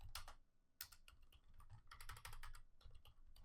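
Quick typing on a computer keyboard, close and quiet, with irregular bursts of key clicks and short pauses between words.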